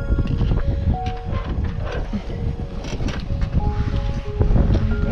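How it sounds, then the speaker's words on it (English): Wind blows across a sailboat at sea, a constant low rumbling buffet with gusty surges, faint whistling tones from the rigging and occasional knocks and creaks close by. "What am I doing in this wind?"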